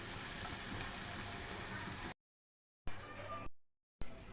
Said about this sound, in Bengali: দেখুন, আমার মুরগির মাংসটাকে ভাজা হয়ে গেছে।